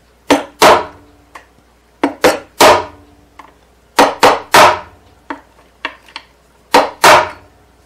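Frets are hammered into the fretboard of a Gibson A model mandolin resting on a wood block, giving sharp, loud, ringing taps in uneven clusters of two or three, close by with short pauses between.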